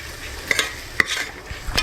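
Vegetables and masala for vegetable pulao are stirred in a pan, sharp spoon scrapes and clinks at irregular intervals over a soft, continuous sizzle, close and with no voices.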